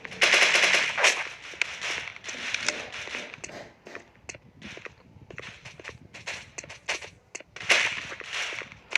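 Rapid bursts of video game gunfire rattle in close, loud volleys with short gaps between them, mixed with clattering impacts and occasional footstep-like thuds.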